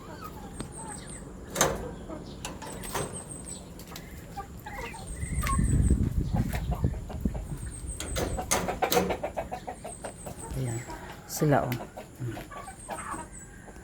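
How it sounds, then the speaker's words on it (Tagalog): Backyard chicken coop with hens and a single rooster, birds clucking and calling near and far throughout, with someone talking over them and some rustling and knocking movement. "Pupunta tayo dito sa ating mga manok."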